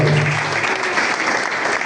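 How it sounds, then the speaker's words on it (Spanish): A church congregation claps loudly together in a short, dense burst of applause that stays even throughout, with a faint hum underneath. "Denle un fuerte aplauso al Señor."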